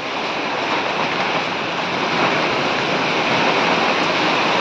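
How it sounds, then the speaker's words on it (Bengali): Strong Kalbaishakhi storm wind after a hailstorm roars and buffets the microphone in a loud, unbroken rush that swells slightly toward the end, with no one speaking. "বাহ, মনে হচ্ছে কালবৈশাখী ঝড় এটা"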